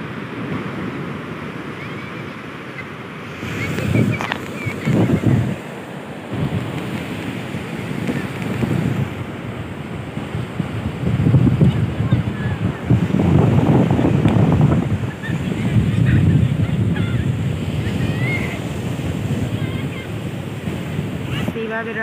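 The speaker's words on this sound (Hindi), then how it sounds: "ये देखो वेव कितना सुंदर दिखता है।" Ocean waves washing onto Baga beach in Goa, a loud rolling surf roar swelling and receding, heavily buffeted by wind noise on the microphone, with people talking nearby at times.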